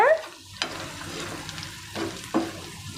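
A hot tempering is poured into curd for perugu pulusu and sizzles briefly. Several short sputtering bursts follow and then fade over a quiet, soft background hiss.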